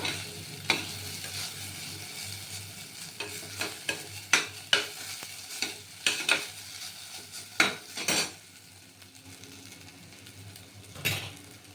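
Sago pearls are stirred in ghee in a pan, with a steady soft sizzle under repeated sharp scraping and tapping strokes of a spoon, close and moderately loud, with no talking.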